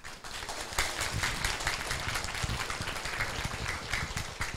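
An audience claps to welcome Professor Lee before a lecture on government internal control at a preparatory meeting, a brisk patter of hands with some sharp individual claps standing out, moderately loud and continuous.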